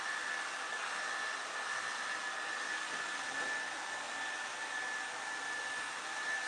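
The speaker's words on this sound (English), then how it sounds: "So the way that you hold your dryer is important." A handheld hair dryer blows steadily while long hair is styled during a home haircut, a loud, even whooshing roar with a thin high whine running through it, alone with no talk.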